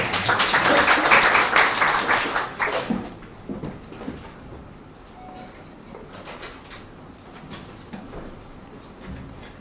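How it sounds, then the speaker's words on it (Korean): An audience at a short-speech event bursts into loud applause that lasts about three seconds, then quickly thins to scattered claps and quiet room noise. "박수로 맞아주시기 바랍니다"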